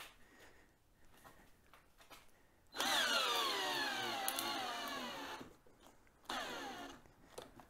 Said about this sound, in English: We've got our 7/16 inch nut driver affixed to our drills, and we're going to see how it goes.